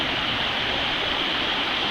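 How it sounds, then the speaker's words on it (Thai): A long waterfall drops from a gated upper section in a nature park, making a steady, loud, close rush of falling water that fills the whole moment with no break. "น้ำตกตั้งแต่ข้างบนนู้น ตั้งแต่ประตูที่เขาปิดนะครับ"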